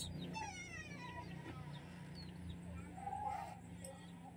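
A cat meows a few times in the background, its calls partly masked by steady household noise and faint voices.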